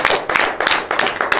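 Choir members and audience clapping in rhythmic bursts, loud and close, with regular pulses of hand claps repeating about every third of a second.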